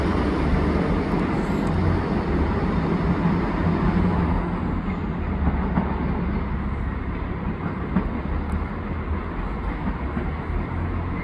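A passenger train rumbles past at Bolton station, a loud, steady close roar of wheels and carriages that lasts throughout, with faint rail clatter and no talk.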